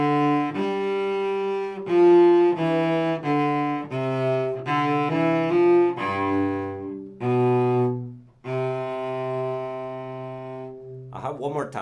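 Cello playing a Suzuki Book 1 minuet at lesson tempo, sustained bowed notes in a steady stepwise melody, clear and close, alone without talk.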